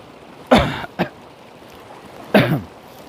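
Two harsh coughs, the first followed quickly by a shorter one, then a third cough after a pause, close and fairly loud over quiet background.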